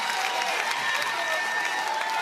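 A crowd cheers and applauds continuously at a St. Louis pickleball match between the Chicago Slice and St. Louis Shock, a steady, fairly loud wash of clapping and voices.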